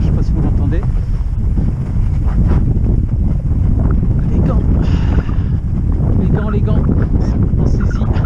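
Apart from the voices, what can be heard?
wind on a snowy mountain during a fat bike ride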